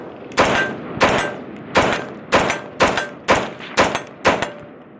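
A SCAR 16 short-barrel rifle fires eight sharp, loud shots in a steady, evenly spaced rhythm, each crack ringing briefly before the next, with no talking.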